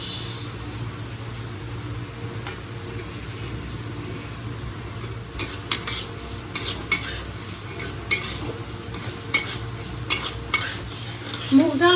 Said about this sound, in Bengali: নামিয়ে রেখেছি মুগ ডালটা ভাজার জন্য